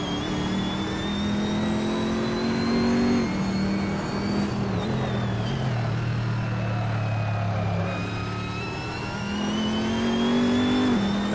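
Race car engine in the video game Assetto Corsa, played on PS4 with a DS4 controller, revving steadily through a lap with rising and falling pitch as it shifts gears, loud and continuous with no talk.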